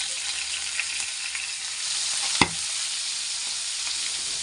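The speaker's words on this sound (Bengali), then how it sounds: "তেল গরম হয়ে গেলে আমি মাগুর মাছগুলো তেলের মধ্যে দিয়ে দিলাম।" Steady sizzling of catfish frying in hot mustard oil, a constant bright hiss with one brief sharp crackle midway; no voices.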